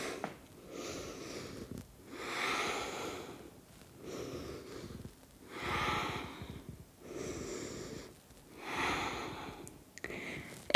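Slow yoga breathing done in a pose for runners, with audible breaths through the nose and throat coming in waves about every two seconds. Each one swells and fades, close and fairly quiet, with no talk.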